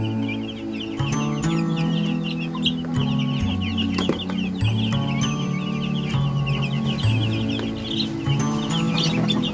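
A flock of Chinese silkie chickens clucks continuously up close, with overlapping low clucks and occasional higher calls and no talking.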